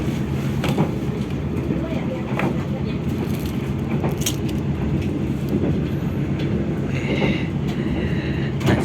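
Interior of the Fajar Utama Yogya passenger train in priority class while running, a steady loud rumble with scattered clicks and rattles throughout, and faint voices underneath.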